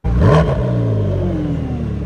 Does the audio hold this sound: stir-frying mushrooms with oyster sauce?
no